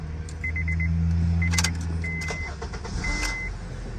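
A Honda engine cranks briefly and catches, settling into a low idle, with warning chimes beeping and small clicks and jingles nearby.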